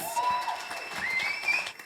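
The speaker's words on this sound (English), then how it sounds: "So I'd like a round of applause for them both." A comedy-show audience applauds steadily for about two seconds, a dense, even patter of clapping with a faint whistle or two riding on top.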